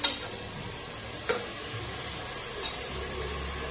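Masala for a palak chicken gravy is stirred and fried in a pan, giving a soft, steady sizzle with a few faint scraping clicks of the spoon, quiet and close.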